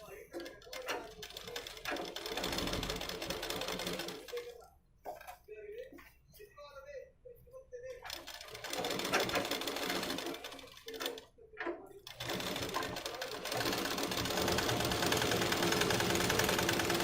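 A sewing machine stitches the collar neck of a blouse, its fast, steady whirring running in long stretches broken by pauses, while someone talks between and over the runs.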